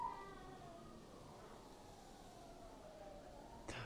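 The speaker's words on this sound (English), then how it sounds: "There's sirens that are slowly getting louder in the background." A wailing siren in the video game Omori, a faint gliding tone rising and falling beneath a low background hum, with a brief burst at the end.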